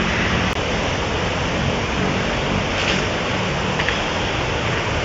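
Continuous rushing water of a creek fills the scene, a steady broadband roar like a fast-flowing stream, with no voices.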